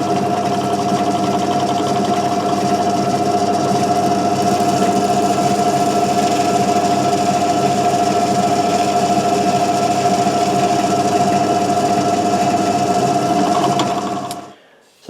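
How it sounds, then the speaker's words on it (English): A power drill whines steadily at a constant pitch for a long stretch, drilling fret marker holes in a guitar fretboard, then winds down and stops at the end; close and loud. "and then we'll drill down."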